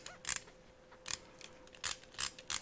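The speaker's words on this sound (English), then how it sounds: "Don't you love that sound? One of my daughters used to just get a hold of that screwdriver and play with it with the ratchet." A ratchet screwdriver is turned back and forth, giving about six short bursts of crisp, close mechanical clicking separated by brief quiet gaps.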